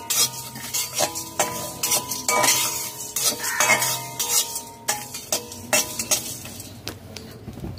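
Whole spices including chillies stirred and dry-fried in a pan over low to medium flame, with repeated scraping and clinking of a utensil against metal in an uneven rhythm and a faint sizzle underneath, close and fairly loud.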